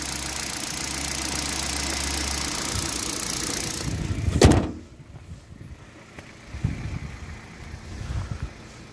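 A Kia Rio, offered as ready for taxi work, idles with a steady low hum that runs alone for several seconds. A sharp thump lands midway, and after it the engine sounds quieter, with a few soft knocks.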